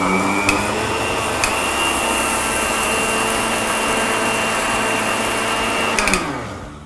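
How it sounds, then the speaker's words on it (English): A blender grinds sugar until fine for no-cook cashew marzipan. It is a loud, steady whir up close that winds down at the end, with no talk. "So we'll first take the sugar and we'll grind it till it's really fine."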